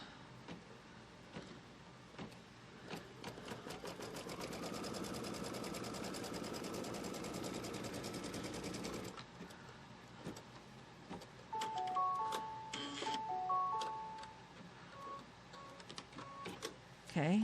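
An embroidery machine stitches a tack-down line on quilt fabric for a Kimberbell pumpkins and potions quilt, its rapid mechanical whir building and holding for several seconds, then stopping, followed by scattered clicks and electronic beeps.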